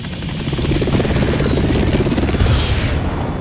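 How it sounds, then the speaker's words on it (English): A Hind D Russian gunship helicopter from the game Metal Gear Solid drones loudly and continuously, its rotor thumping in a dense low rumble with a hissing wash, close and unbroken with no voices. "A Hind D. Colonel, what's a Russian gunship doing here?"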